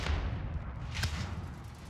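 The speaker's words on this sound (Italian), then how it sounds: "Sento il bombardamento di precisione." Muffled explosive booms from a precision airstrike in Call of Duty: Warzone rumble at low volume, with one sharper blast about halfway through over a steady low roar.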